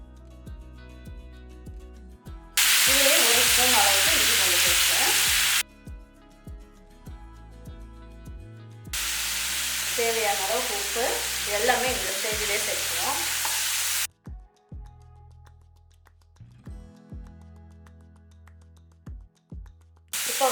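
Onion frying in a pan with ground tomato poured in, a loud broadband sizzle bursting on twice for a few seconds each, between quieter clinks and stirring scrapes.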